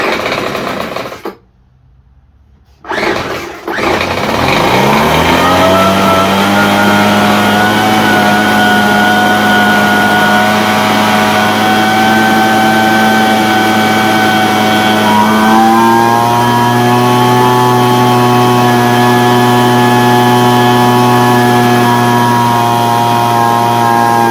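Craftsman small engine sputters briefly, drops out, then restarts and runs loud and steady at high throttle, its tone rising and settling with a slight step up in pitch midway.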